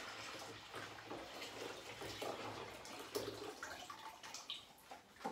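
Hot water from a freshly boiled kettle pours steadily into a kitchen sink for washing up, a continuous splashing rush with a few louder sloshes near the end, close and moderately quiet.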